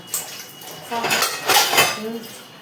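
Dishes being washed: pots and cutlery clink and clatter against each other with splashing water, close by.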